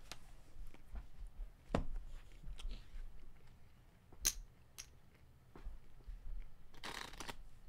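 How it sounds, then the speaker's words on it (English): Playing cards shuffled by hand at a high-stakes poker table, with soft riffling and a few sharp snaps of the deck between quieter stretches of low rustle. "I'm going to get good at shuffling by the end of this"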